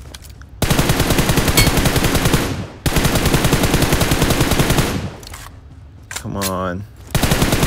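Rapid automatic gunfire in the shooter game PUBG Mobile, two long loud sustained bursts with a short break between, then a brief electronic tone and another burst starting; a voice speaks briefly.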